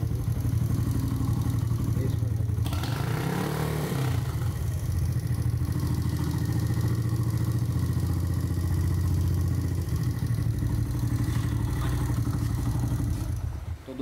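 A repaired motorcycle runs steadily in second gear, its engine droning loud and close and unbroken, with a brief clattering surge partway through and no voices.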